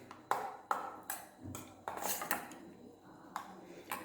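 Curd is stirred into fresh cream in a container, a series of sharp clinks and scrapes of a utensil against the sides, irregular and close, with faint speech in the background.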